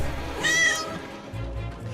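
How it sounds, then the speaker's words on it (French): A cartoon cat meows from inside a box, a single drawn-out, fairly clear meow heard over a low background hum in an animated Marvel Spidey scene. "Il est là, je l'entends miauler dans cette boîte"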